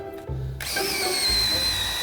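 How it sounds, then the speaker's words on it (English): A power drill bores into dense Brazilian hardwood decking during deck construction, a steady close whine with loud, sustained motor tone and a brief start-up at the beginning. "pull while you're drilling"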